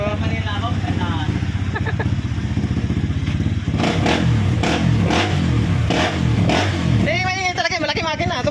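Benelli 200cc motorcycle engine running steadily and loudly throughout, with a dense low rumble and some clattering thumps, while people talk nearby over it.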